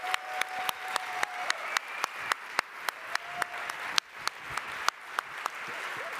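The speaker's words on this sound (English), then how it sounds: "Let's have another big round of applause for this wonderful living wall artistic performance from Anya" Applause follows a living wall artistic performance at an award ceremony, heard as a fairly faint run of sharp, evenly spaced claps, more like a few hands than a full crowd.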